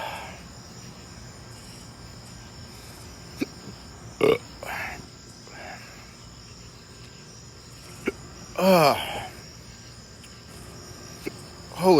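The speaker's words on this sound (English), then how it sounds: "There goes the hiccups." Hiccups set in after eating a 7 Pot Primo chili pepper: a few sharp, loud gulping jolts spaced several seconds apart over a steady outdoor chirr of crickets, with occasional voices.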